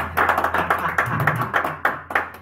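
A church congregation claps in a quick, steady rhythm, a cluster of sharp hand strikes repeating close by for a couple of seconds.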